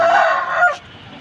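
A heavy, big-bodied red game rooster lets out a single short, loud call at close range, ending abruptly in quiet.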